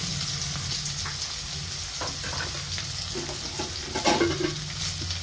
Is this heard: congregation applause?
no